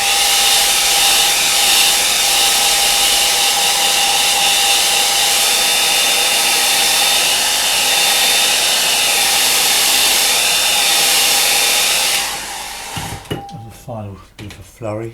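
A hair dryer blows steadily and loudly across a watercolour painting of a lake scene for about twelve seconds, then cuts off, leaving brief rustling and handling noises.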